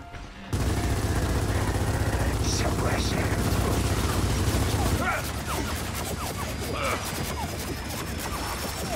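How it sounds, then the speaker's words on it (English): Sustained enemy gunfire in Gears of War 4, a dense rattling fusillade of shots and mechanical clatter that runs loud through the whole stretch, easing slightly after the midpoint, with a voice talking over it. "This guy still want to keep shooting"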